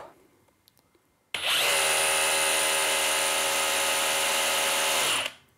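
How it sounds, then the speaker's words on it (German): An electric drill spins up sharply after a quiet start, whining loudly and steadily for about four seconds as it bores a hole with no pressure applied, then winds down. "einfach anlaufen lassen und die Bohrmaschine macht die Arbeit von alleine"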